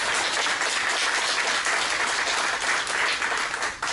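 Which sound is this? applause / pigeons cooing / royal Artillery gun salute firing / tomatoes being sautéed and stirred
applause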